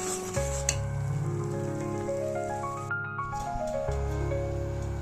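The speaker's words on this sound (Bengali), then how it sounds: "আর একটুখানি নাড়াচাড়া করে নেবো" Semai vermicelli is stirred in ghee in a pan, giving a steady close sizzle and soft scraping for several seconds, with tonal background music over it.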